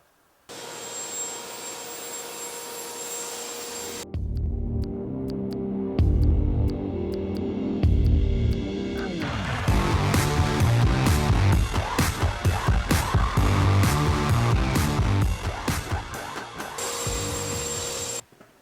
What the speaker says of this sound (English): now what we have to do is cut them all in strips like that